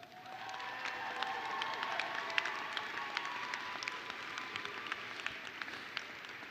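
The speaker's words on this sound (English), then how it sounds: "you truly give them another round of applause" Audience applause at a university graduate commencement ceremony, a steady wash of clapping with some cheering and shouts, loud and continuous, with a tonal hum running underneath.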